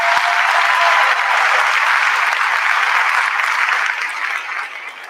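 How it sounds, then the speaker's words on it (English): Loud, sustained applause from a room full of staff at an end-of-year celebration, dense clapping holding steady for several seconds before starting to fade near the end. "let's give her a round of applause"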